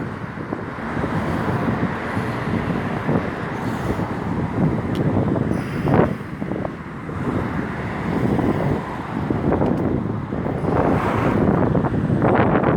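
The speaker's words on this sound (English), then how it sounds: "today's a windy day anyways" Strong wind buffets the microphone outdoors with a continuous roaring rush, surging in gusts and drowning out faint traffic in the background.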